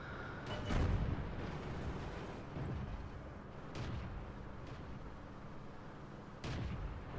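Heavy tank cannon shots at point-blank range in World of Tanks, several deep booming blasts spaced a couple of seconds apart over a constant low engine rumble and battle noise.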